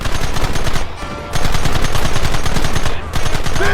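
Rapid gunfire from a Western shootout in Red Dead Redemption, dense bursts of shots rattling almost continuously with two brief lulls, loud and close.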